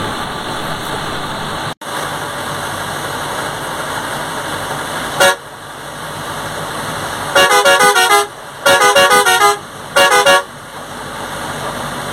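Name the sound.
Jupiter Travels bus overtaking on the highway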